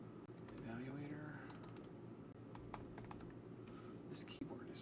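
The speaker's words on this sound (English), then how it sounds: "This keyboard is rough today." Keys clatter steadily on a computer keyboard while someone codes at a desk, a busy run of clicks with a low murmur of speech underneath.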